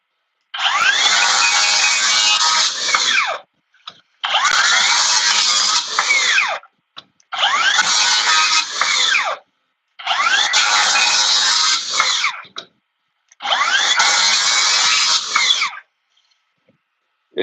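A compact power saw, an M-12 stubby, cuts through knotty wood in five loud, harsh bursts of about three seconds each, separated by brief silent pauses.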